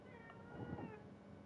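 A house cat meowing once during a quiet home gaming session, a faint drawn-out meow rising and falling over soft room noise.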